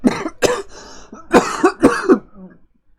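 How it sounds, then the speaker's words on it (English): A person coughs and clears their throat in a quick series of harsh, close bursts, some with voiced croaks, during a gaming session. "there's like hiccups and coughing all at the same time."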